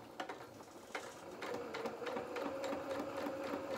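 A sewing machine runs a seam on a small doll shirt with no reverse stitching, a steady close whirring hum that starts after a few light mechanical ticks and carries on continuously without talk.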